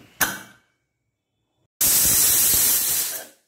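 A pressure cooker cooking basmati blue pulao lets out a sharp burst of steam, goes silent, then releases a strong, sustained hissing whistle that lasts over a second before fading.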